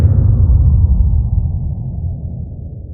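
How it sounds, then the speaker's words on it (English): A heavy cinematic impact made in FL Studio with Multiband Delay hits sharply at once, then a deep rumbling tail slowly fades over a few seconds, alone. "you can automate its parameters to receive a completely unique impact sound that isn't like any other in your sample library"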